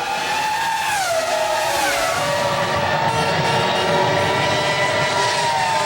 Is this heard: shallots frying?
no